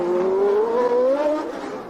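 A Formula One race car at La Rascasse corner in Monaco accelerates, its engine note climbing steadily in pitch for a couple of seconds, loud and close.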